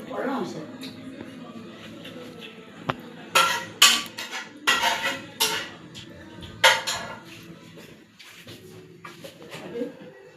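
A spoon scrapes and clinks against a pan while mushroom curry is stirred and mixed with the flame off, giving irregular metallic knocks and scrapes, some sharp and loud, over a low background hum.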